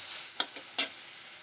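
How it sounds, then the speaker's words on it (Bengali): Spices for a katla fish curry with potatoes being stir-fried in a pan: two brief scraping knocks of a spatula over a steady low sizzle, fairly faint and with no voices. "এবার আমি ভালো করে কষাতে থাকবো।"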